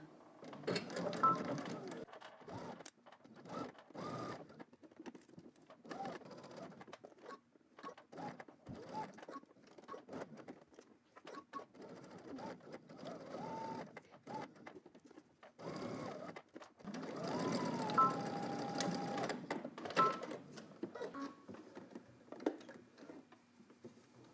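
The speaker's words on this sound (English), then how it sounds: "gonna back stitch at the beginning and also at the end" A sewing machine back stitches a garment seam in short, soft runs and pauses, with quiet ticking between bursts.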